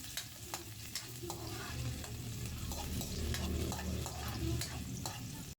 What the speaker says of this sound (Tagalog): dito na tayo sa exciting part, ang maggisa.